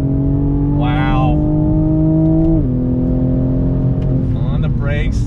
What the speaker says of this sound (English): The sounds, the pops, the crackles, it's making all the right noise.